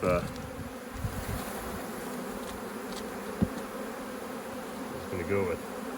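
Honey bees buzz around the frames of a nuc hive during an inspection for swarm cells, giving a steady, dense, close hum of many insects that carries on throughout.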